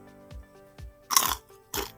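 Crunchy caramel-coated peanuts are bitten, a few soft low taps followed by two sharp, bright crunches up close.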